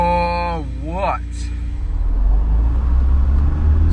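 A cheap used Ferrari, left sitting for four months, starts up again after a brief spoken voice, its engine settling into a deep, steady rumble that swells and holds close and loud.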